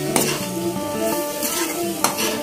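Grated beetroot curry is stirred in a pan over light sizzling, with a few sharp scrapes and clinks of the utensil against the pan standing out from the steady hiss.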